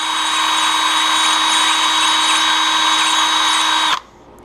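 A power drill spins steadily at high speed, polishing pinewood derby car wheels, a loud even whine that runs without a break and then cuts off sharply, leaving faint room noise.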